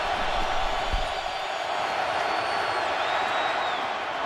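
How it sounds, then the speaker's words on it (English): Stadium crowd cheering at an NFL football game, a dense, steady roar of many voices that stays loud and continuous throughout. "you hear the cheer"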